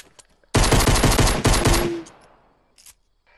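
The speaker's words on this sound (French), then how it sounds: "Bouge plus et tire en l'air." Rapid automatic gunfire shot into the air in the video game Fortnite, one loud sustained burst of about a second and a half that cuts off into a fading echo, with a brief faint pop after.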